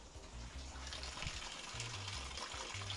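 A Samsung washing machine that keeps overfilling draws water in a steady, continuous gush, with low intermittent hums from the machine running beneath the flow.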